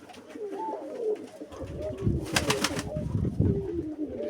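Soft, low pigeon coos repeat outdoors over a steady background murmur, with a brief bright flutter in the middle.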